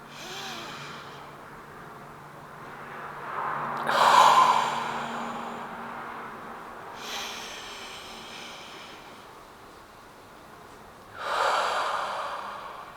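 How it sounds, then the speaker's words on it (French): Slow relaxation breathing, each breath drawn in through the nose and released as a soft blown exhale through the mouth: three separate airy breaths a few seconds apart, close and quiet, with no talking. "Sur l'inspire, on sera pas uniquement par le nez et sur l'expire, on relâchera par un souffle par la bouche"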